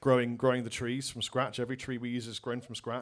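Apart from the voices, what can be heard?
None of the usual background noises is heard.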